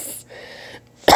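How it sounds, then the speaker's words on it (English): After faint, muffled background sounds, a single sharp, loud cough bursts out close to the microphone at the very end. "My cough is from 4 weeks ago."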